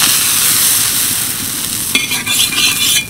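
A drop each of oil and water on a hot iron griddle gives a steady, loud hiss, then a sharper crackling burst partway through, close up and with no one speaking.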